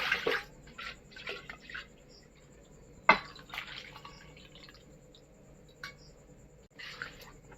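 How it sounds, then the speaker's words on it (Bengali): A pressure cooker is rinsed and filled with a little water, making intermittent splashes, drips and a sharp metallic clank partway through, close by with quiet gaps between bursts. "একটু প্রেসারটা ধুয়ে একটু জল দিয়ে দেবো।"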